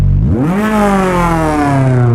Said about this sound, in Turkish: Gaz vereyim bakayım